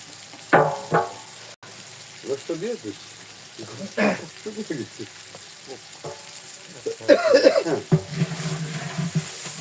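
Meat sizzling and frying in a pan while khichuri cooks at an outdoor fishing trip camp, with intermittent stirring scrapes and bursts of crackle, close by.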